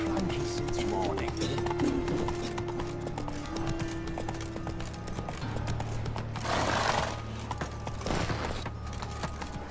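In a video game, horse hooves clip-clop steadily during a ride, with a whinny and scattered voices over a background music drone.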